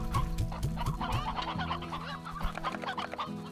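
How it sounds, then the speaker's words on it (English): Hens clucking in the video game Slime Rancher, a dense flock of repeated clucks and cackles piled together under busy in-game music and ambience. "We're going to release some hens here."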